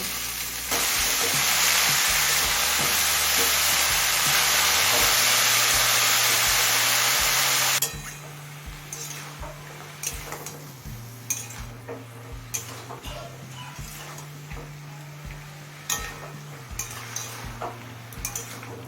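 Pumpkin greens fry and get mixed with vegetables in a pan. A loud, dense sizzle holds for about eight seconds, then drops to a quieter simmer under repeated stirring scrapes and clinks of a spoon against the pan.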